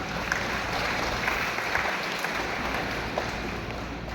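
Church congregation at an anniversary service applauding together, a dense, continuous roar of clapping from a large crowd filling the room at steady volume.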